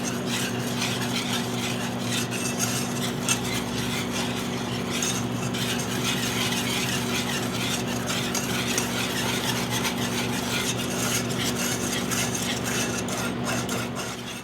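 A spoon stirs egg yolk and flour in a pan for a lemon soufflé, a continuous scraping and swishing with faint clinks over a steady hum, close and moderately loud throughout.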